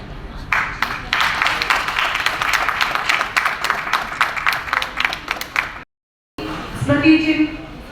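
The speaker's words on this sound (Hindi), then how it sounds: "मैं चाहती हूं एक बार जोरदार तालियां बजाएं आप सब" Loud, dense applause from an audience at a book launch and award ceremony, sustained for several seconds before a brief gap, then resuming with voices over it.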